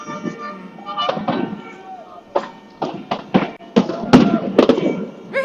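Repeated sharp bangs of fireworks at irregular intervals, moderately loud and somewhat distant, with people talking underneath, at a dockside welcome for a finishing Vendée Globe sailor.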